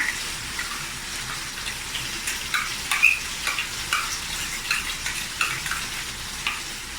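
Blended chili paste frying in oil with ground spices, stirred in a pan for chicken masak merah: a steady close sizzle broken by repeated scraping strokes, with no talk.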